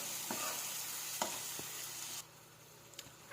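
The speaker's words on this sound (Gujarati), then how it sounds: "હવે તેને બરાબર મિક્સ કરી લઈશું" Paste is stirred into a peanut bhajiya curry in a pan over a faint, hissing sizzle. A few scattered spoon scrapes and taps sound close but quiet, and the hiss drops off partway through. No voices.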